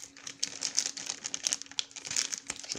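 A plastic parcel bag from China crinkles and rustles continuously up close as it is handled and torn open, a steady fizzy crackle with no speech.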